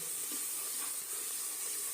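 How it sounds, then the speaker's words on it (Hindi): Salt, chili and spices for aloo matar fry in a pressure cooker with a steady, faint, high sizzle that hisses evenly throughout, with no talk. "यहाँ पर भी अब हम अच्छे से नमक मिर्च की भुनाई करेंगे"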